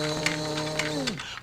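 A voice imitates a household vacuum cleaner with a steady droning hum held for about a second, then sliding down in pitch as it winds off, with faint clicks over the tone.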